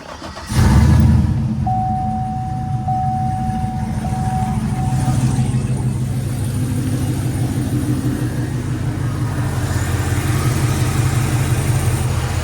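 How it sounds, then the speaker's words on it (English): A pickup truck engine cranks and catches, then settles into a steady, rumbling idle that continues close by. "Go ahead and start your truck."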